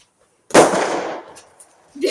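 A firecracker bomb goes off outdoors with one loud, close bang that decays into a rumbling tail over about a second, followed by quiet and then a voice starting up.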